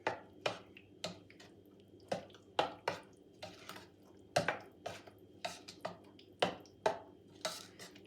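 Coconut sponge cake batter is mixed by hand in a bowl, a spoon tapping and scraping the sides in quick irregular clicks, close and fairly quiet, with no talk.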